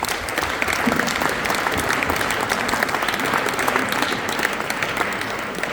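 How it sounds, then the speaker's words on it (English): Warm, sustained applause from an audience at a biotech networking day in Geneva, loud and even throughout, with dense overlapping claps and no talking. "I think you deserve a warm round of applause"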